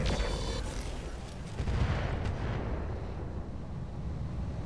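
A heavy mech weapon shot from Roguetech booms out, a loud burst followed by a rumbling decay that lingers with low, rolling blasts.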